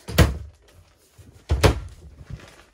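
Interior door of a 2021 Trail Runner 31DB travel trailer bathroom opening, with two distinct knocking thumps about a second and a half apart and soft rattling between, close and with no talk.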